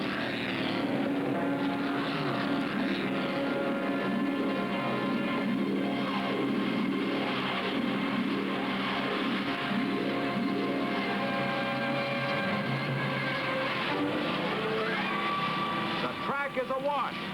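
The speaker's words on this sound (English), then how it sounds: "Cars look more like speedboats as they plow through the submerged race course." Race cars plow through a flooded course during a downpour at the 1965 Sebring Grand Prix, a continuous loud engine drone with rising and falling revving tones, while a commentator talks over it throughout.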